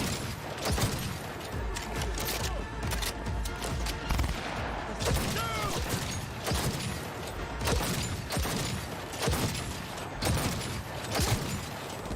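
A powerful gun in the video game Cyberpunk 2077 fires in rapid, dense bursts of sharp, loud shots, nearly continuous volleys with brief mechanical clatter between them and no one speaking.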